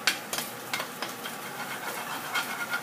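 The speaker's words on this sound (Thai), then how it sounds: "ขัวไข่เฮาไข่เฮาได้ที่แล้วเฮาก็ขัวใส่กันกับกุ้งค่ะ" Scrambled eggs and fermented shrimp fry in a pan, giving a steady close sizzle broken by repeated scraping stirs of a utensil, with no one speaking.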